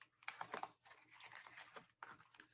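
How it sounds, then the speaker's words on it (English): Tarot cards shuffle close by in quick riffling and scraping bursts, a faint, irregular papery clatter with short pauses between runs. "we will shuffle these up again."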